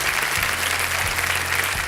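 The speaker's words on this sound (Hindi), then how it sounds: "हम चाहेंगे कि इनका आभार प्रकट किया जाए और इनको स्वागत किया जाए तालियों के साथ।" An audience applauds to welcome school children at a televised show, a dense, steady burst of clapping from a sizable crowd.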